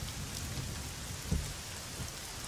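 Rain falling in the racing game Assetto Corsa, a dense steady hiss of rain on surfaces with a brief low thunder-like rumble partway through.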